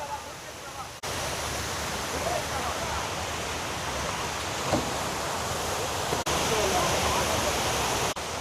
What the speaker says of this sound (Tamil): தண்ணி வந்து அப்படி எவ்வளோ ஃபோர்ஸாக போயிட்டுருக்கு நிரம்பி.